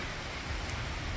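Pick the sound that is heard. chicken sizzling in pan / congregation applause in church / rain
rain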